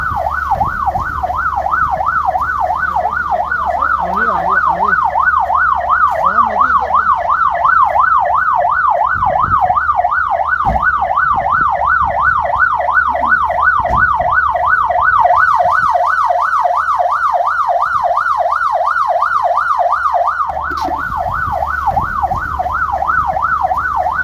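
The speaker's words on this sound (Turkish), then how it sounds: "Şimdi ambulansımıza binip bir göreceğiz." Ambulance siren wails in a fast, steady up-and-down cycle, loud and close, running continuously without pause and joined briefly by a second siren tone.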